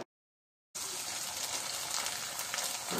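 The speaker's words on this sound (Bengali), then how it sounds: "শুকানোর পর এখন আমি আপনাদেরকে ভেজে দেখাচ্ছি যেটা কেমন হয়েছে" Homemade rice chips hit hot oil after a short silence, breaking into a loud, steady, bubbling sizzle of deep-frying that carries on to the end without any talking.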